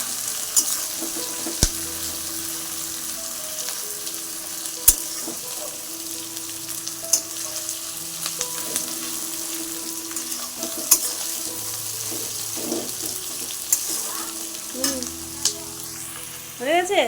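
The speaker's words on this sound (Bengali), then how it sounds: "লাল লাল করে ভেজে দিয়েছি আজকে আলু।" Potatoes frying in a little oil, a steady close sizzle running throughout, broken by a few sharp clicks and scrapes of stirring, with no talking.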